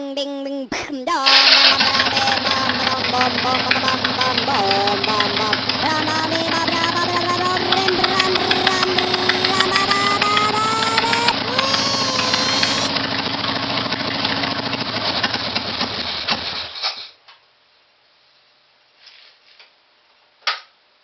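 A Harley-Davidson Sportster motorcycle engine with a carburetor fires up on choke and settles into a loud, steady idle with a rhythmic ticking lope for about fifteen seconds, then cuts off abruptly, leaving near silence.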